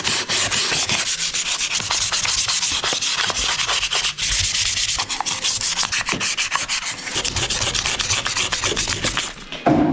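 Steady, continuous wet sanding with fine-grit sandpaper on sailboat headlining, a dense scratchy hiss with rhythmic strokes running throughout, close and loud.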